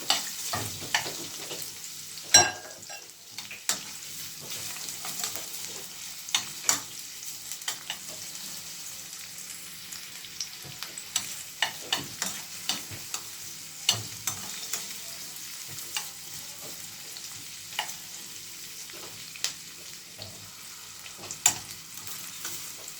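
Onions frying in a pan, a soft steady sizzle with scattered sharp crackles and pops from stirring, alone and moderately close.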